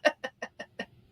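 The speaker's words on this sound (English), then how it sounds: "Stop with the Rooster." A rooster sound effect plays as a short burst of five evenly spaced, clipped clucking calls, close and clear against a quiet background, with no talking.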